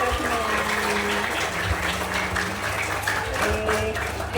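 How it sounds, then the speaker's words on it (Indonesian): Audience clapping at an Islamic boarding school short course session, a steady wash of hands mixed with overlapping voices and sustained tones, fairly loud and continuous. "tepuk tangan bagi kita semua"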